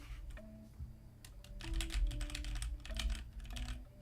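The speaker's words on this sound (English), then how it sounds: "you're gonna hear the keyboard no matter what" Computer keyboard keys clatter in quick, uneven bursts of typing, close and moderately quiet, with no voices.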